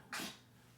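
A single short, sharp sneeze bursts out close by indoors, lasting a fraction of a second, then quiet room tone follows.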